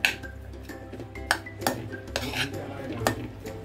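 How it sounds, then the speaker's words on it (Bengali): A metal spoon scrapes and clinks against a bowl while spices are mixed with hot oil for paneer patties. Several sharp taps fall in an uneven rhythm over the stirring, close by with no speech. "সব মশলাগুলো এইভাবে চামচের সাহায্যে করবেন, কারণ গরম তেল আছে, হাত দেবেন না।"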